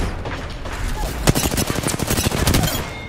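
Rapid bursts of Rampage LMG gunfire in the video game Apex Legends, loud and close, with steady repeated shots and a few heavier impacts, no talking over it.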